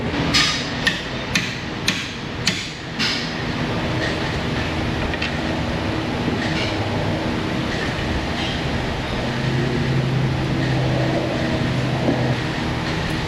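Sharp metal hammer strikes on a chisel or pry bar, used to free a ball joint and axle shaft from the steering knuckle of a 2013 Ford Escape in a shop. Five or six loud, evenly spaced blows come in the first few seconds, then a steady mechanical hum.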